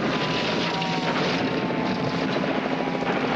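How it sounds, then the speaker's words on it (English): A helicopter coming in to land, its rotor roaring steadily and loudly, a constant broadband drone with a faint whine, as if hovering close overhead. "Here comes a helicopter for the landing with our heroes."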